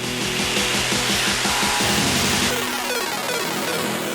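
Home sewing machine running a zigzag stitch to attach a stretched gold spandex loop around the top of stretchy boot covers, a steady loud mechanical whir with rapid rhythmic needle clatter throughout, no talking.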